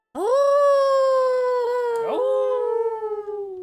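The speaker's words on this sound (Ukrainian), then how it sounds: "десь у далині страшенно завиває зграя шакалів" A single long, sustained jackal howl rising and holding steady, loud and clear, with a second voice from the pack briefly joining before fading out.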